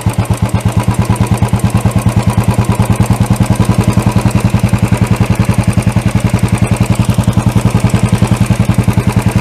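A BS6 Royal Enfield motorcycle engine runs at raised RPM, a loud, close, even thumping beat that holds steady throughout.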